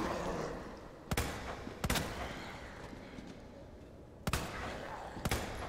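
Four sharp gunshots crack out at uneven intervals, in two pairs, over a steady noisy game background in Resident Evil 2 Remake.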